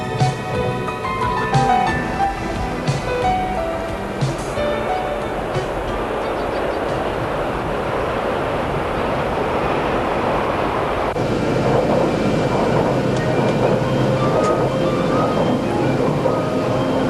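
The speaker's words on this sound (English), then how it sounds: "the train carrying the president's party glides into" A passenger train rolls through the Japanese countryside in autumn 1990 with a steady, continuous rumble that swells slightly louder partway through, with no voices heard.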